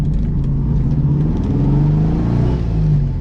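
A Gurgel XEF compact car's engine pulls up a hill in third gear, a loud, steady, close-miked drone with a slight rise in revs throughout.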